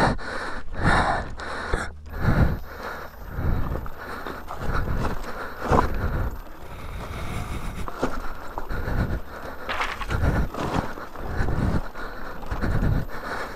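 Heavy, ragged breathing and gasps from a rider on an electric dirt bike (Surron or Talaria) tackling a rough, steep trail, close to the microphone in steady bursts over wind buffeting and faint trail noise.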